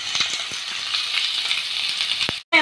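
Chopped onions frying in hot oil for tomato rice, a steady close sizzle with a few small stirring clicks, cut off by a brief silence near the end.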